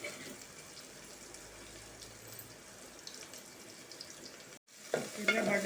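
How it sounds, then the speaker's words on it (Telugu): Chopped onions and chillies fry in a pan with a steady, loud sizzle and some stirring. The hiss breaks off briefly near the end, then returns louder. "తర్వాత ఉల్లిపాయ ముక్కలు, దాంతో పాటు కూడా అట్టని మిరపకాయలు కూడా వేసుకోండి."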